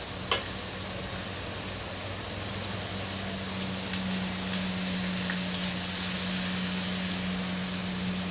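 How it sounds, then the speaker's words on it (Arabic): Garlic frying in hot oil for Egyptian bessara, a steady loud sizzle with a faint crackle at the start, constant and unbroken with no voices. "معايا دلوقتي الزيت بتاعي، هنزل بالثوم"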